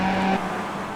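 Race car engines in the iRacing video game, Skip Barber cars running side by side at the Nurburgring: a loud, steady engine tone that drops in pitch about a third of the way through, then a continuing close motor roar.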